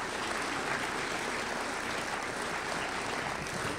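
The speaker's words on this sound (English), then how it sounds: "How about another round of applause for both the choir and the orchestra" Sustained applause from the audience at a high school band and choir concert, honoring the choir and orchestra; dense, steady clapping fills the hall throughout without a pause.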